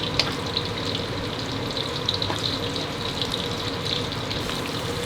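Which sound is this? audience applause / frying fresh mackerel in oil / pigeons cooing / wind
frying fresh mackerel in oil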